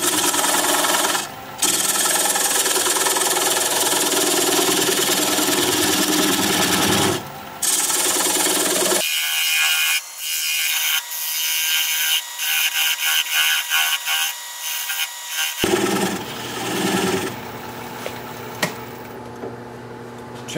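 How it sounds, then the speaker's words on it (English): Wood lathe spinning a log bowl at about 600 RPM while a 3/8 inch bowl gouge removes the tenon, giving a loud steady scraping, rasping cut with brief pauses and a quieter stretch midway. "Gonna use a 3/8 inch bowl gouge and commence to removing that tenon."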